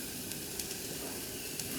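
Curry leaves crackle and sizzle in hot oil for a chickpea curry, a steady dense frying hiss with a few sharper pops, close and continuous with no voices.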